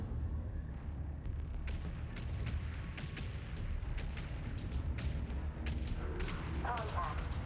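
An enemy turret firing in the space-combat video game Homeworld 3, a string of repeated sharp blasts over a continuous low rumble of battle, with a brief electronic chirp near the end.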